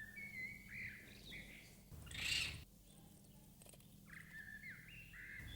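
A small bird chirps in short bursts of repeated high trills, moderately close but faint, with a brief rustling noise between the calls.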